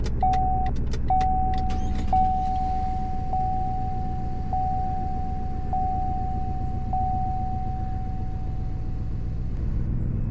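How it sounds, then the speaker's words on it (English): A small pickup truck's engine turns over and settles into a steady, close idle that fills the whole stretch, while a repeating electronic chime beeps at an even pace over the rumble. "Here's what it sounds like starting up."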